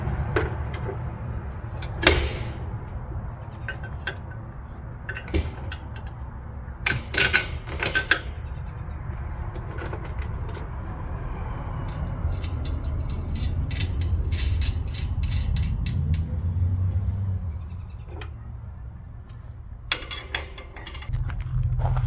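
A hitch cargo box is slid and mounted onto a vehicle hitch, giving scattered metallic clanks, ratcheting and scraping over a low rumbling background, with several sharper knocks early on.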